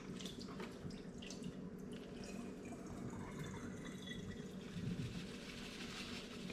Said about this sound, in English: Now we're gonna pour the water out from the tamales.